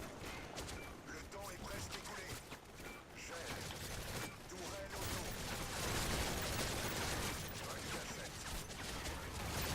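Heavy machine gun blasting away in a chaotic video game match, a dense continuous barrage of rapid gunfire and clattering effects filling the whole stretch, loud and close, with a voice talking faintly underneath.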